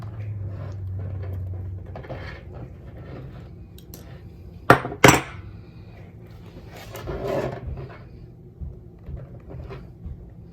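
A wrench bending the metal coil of a paper planner gives two sharp, close metallic clicks in quick succession midway, then soft handling rustles and light scraping around them.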